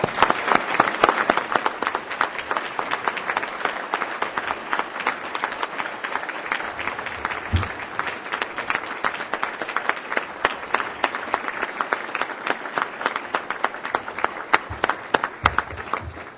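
An audience claps steadily for Minister John Milloy at a lunch event, a dense, sustained round of applause that holds at full strength throughout without any talk over it.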